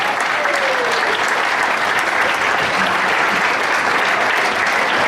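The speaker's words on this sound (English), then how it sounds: "Ladies and gentlemen, please give a round of applause for Jerry." An audience at a charity night for cystic fibrosis gives a speaker a steady, loud round of applause, a dense wash of clapping that continues evenly throughout.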